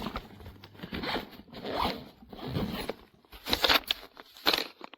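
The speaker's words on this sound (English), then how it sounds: "So when all of this is zipped up" A zipper closes on a 28-litre TUGUAN insulated cooler backpack that holds 38 cans, heard as several close, rasping pulls of varying length with brief pauses between them.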